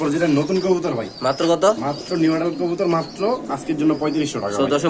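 Mundian pigeons coo at a pigeon sale, with continuous overlapping low coos close by and a busy, voiced texture throughout.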